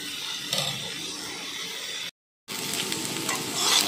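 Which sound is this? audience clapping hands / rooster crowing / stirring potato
stirring potato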